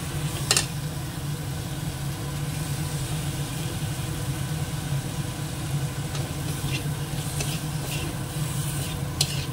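Prawns sauté in a pan with a steady, moderate sizzle under a constant low hum, broken by a few sharp scrapes and taps of a spatula.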